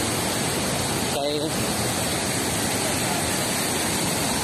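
A waterfall at Mailum Falls roars as a steady, loud, dense wash of water, continuous throughout and close to the listener, with a brief faint voice near the start.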